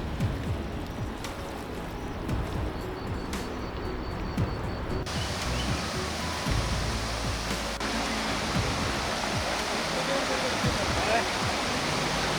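A forest stream and small waterfalls rush steadily on a jungle trek through tiger territory, a loud continuous broadband roar of flowing water from start to finish.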